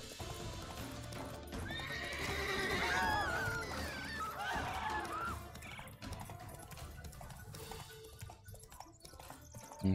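Roach the horse in The Witcher 3 clip-clops at a steady ride with several loud, close neighs and whinnies in the first half, hooves continuing as the whinnying fades.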